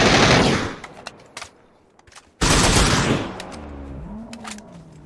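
Loud automatic gunfire in a video game, aimed at a bear: a dense burst of rapid shots up front, a short lull with a few scattered pops, then a second sustained burst that trails into lighter firing.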